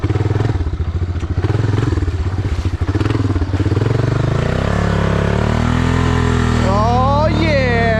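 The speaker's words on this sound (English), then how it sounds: "As you can hear, it's got a little bit of an exhaust leak." A three-wheeler with a slight exhaust leak runs close and loud, its engine chugging roughly with a thumping, uneven beat before settling into a steadier drone as it revs.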